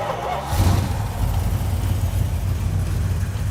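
A junkyard Plymouth Barracuda's engine, fed from a gas can, turns over and catches around half a second in, then settles into a steady low idle rumble.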